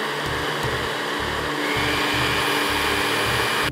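A blender runs steadily at loud, close range, whirring through a lentil soup with an even motor drone and a rhythmic pulsing churn that holds unbroken from start to finish.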